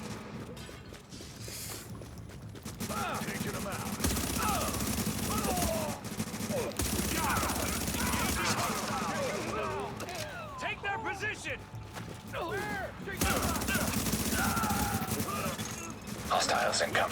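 Turrets firing in a video game, rapid bursts of automatic gunfire and mechanical clatter rattling on and off with brief pauses amid game sounds.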